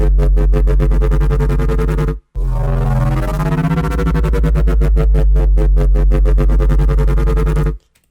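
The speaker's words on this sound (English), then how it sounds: "My intention was just to make a sound using granular synthesis" A heavy, distorted neurofunk bass synth built with granular synthesis in Phase Plant drones loudly with a rapid pulsing, grainy texture. It cuts out briefly partway through, returns with a shifting, warbling tone, then stops abruptly near the end.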